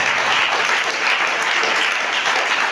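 A church congregation claps in sustained, dense applause acclaiming Jesus, a steady wash of many hands with no voices standing out.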